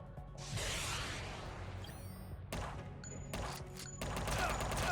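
Machine gun fire in the video game UnMetal: dense rattling bursts of gunfire with a whooshing sweep, crashes and a sharp metallic ping, fairly loud and continuous over five seconds.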